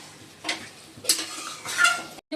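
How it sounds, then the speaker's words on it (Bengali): Food being stirred and sautéed in a pan, with a few brief scraping strokes of a utensil over a faint sizzle, close by, followed by a sudden cutoff. "ভালো করে কষিয়ে নিই।"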